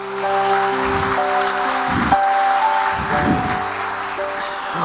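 A church congregation claps in praise, a broad wash of steady applause heard alongside sustained organ or keyboard chords and a few low swells of voices.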